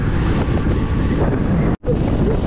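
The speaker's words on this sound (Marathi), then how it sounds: "हवा विंड फ्लो लई जोरात आहे" Strong mountain wind near Leh in Ladakh roars across the microphone in a steady, loud, broadband rush, cutting out for a split second near the end before resuming.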